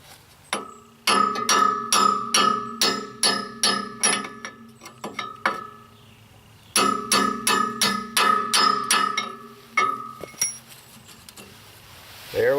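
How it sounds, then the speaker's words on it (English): A hammer strikes aluminum stock held against a stuck bolt on a John Deere 4105 tractor tine, ringing metallic taps in two bursts of rapid, evenly spaced blows with a short pause between, close and loud. "We'll just give that bolt a few love taps and see if we can get her out of there."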